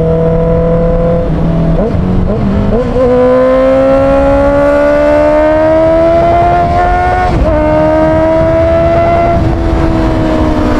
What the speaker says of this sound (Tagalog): Kamusta po sa inyo yung sound ni CBR 650R? SC Project can't delete.